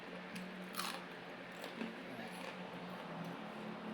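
Crunchy fried cireng being bitten, several crisp crunches close to the microphone over a steady background hiss.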